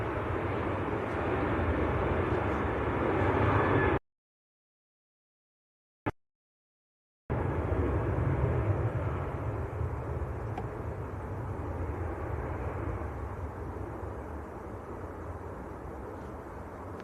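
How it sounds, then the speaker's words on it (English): A Ryanair airliner departs Manchester Airport for Lisbon, a steady distant jet engine roar that cuts out briefly to silence mid-way, then resumes and slowly fades. "Ryanair to Lisbon."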